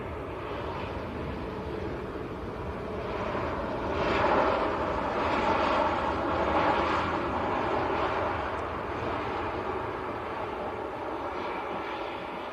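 A Lufthansa Airbus A319 airliner from Frankfurt passing at Manchester Airport, a steady jet rumble that builds to a peak midway, then eases back to a softer continuous drone.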